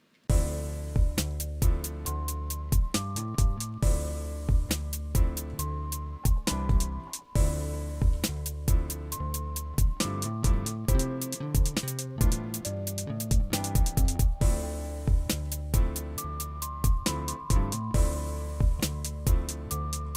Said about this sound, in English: here's the beat what we made so far in this little session